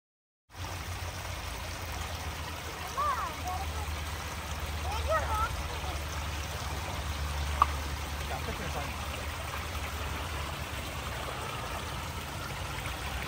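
A small artificial waterfall pours into a pond at a large plant nursery, making a continuous, even rush of flowing water with a faint low rumble underneath.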